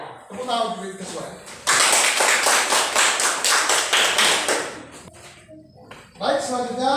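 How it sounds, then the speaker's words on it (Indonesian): Students in a classroom clap their hands together in a loud, steady burst of rapid claps lasting several seconds, with voices talking before and after. "Tepuk tangan untuk kesesuaian."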